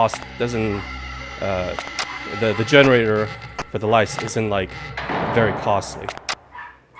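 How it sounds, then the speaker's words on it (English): A feisty young dog barks in the background during a spoken playthrough of a horror game, with scattered yips under steady, close talking. "Sorry about the barking"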